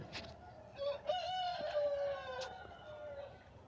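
Sonali parent stock chickens on a poultry farm produce one drawn-out, crowing-like call lasting about a second, with fainter clucks around it, heard at a moderate distance.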